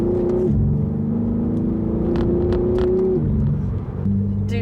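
A BMW M4 CSL engine pulls hard and loud close by, a steady droning rumble rising in pitch before a brief dip between gears, then climbing again.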